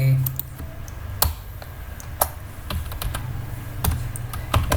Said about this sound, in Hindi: एड्रेस हम टाइप कर रहे हैं